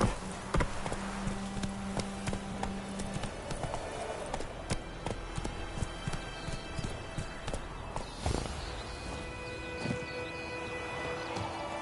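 Roach, the horse in The Witcher 3: Wild Hunt, gallops along with steady, rapid hoofbeats, close and continuous, under game music and ambient birdsong.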